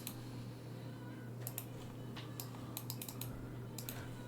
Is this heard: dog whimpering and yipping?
no